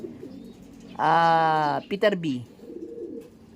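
A pigeon gives one loud, close, drawn-out coo, then a couple of short broken coos, with quiet speech in the background before and after.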